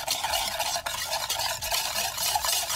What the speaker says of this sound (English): whisking it together.